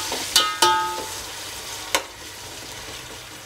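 Onions and tomatoes fry in a pan for prawn biryani, giving off a loud, steady sizzling hiss near at hand, with a few sharp utensil knocks against the pan early on.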